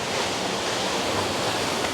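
Water from a splash park waterfall rushes and splashes in a steady, dense hiss, loud and close without a break.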